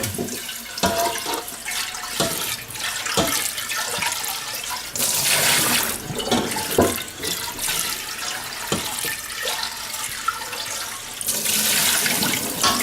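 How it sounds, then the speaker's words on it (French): Water runs steadily from a tap as an old stewpot is rinsed, with splashing and occasional metallic knocks of the pot against the sink, a continuous close wash of sound with no talking. "c'est un vieux faitout, un vieux truc, hein, qui est très efficace. Hein. On va un peu le rincer."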